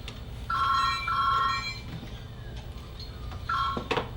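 Office telephone ringing with two-tone electronic bursts, two close together at the start and another near the end, over quiet room noise.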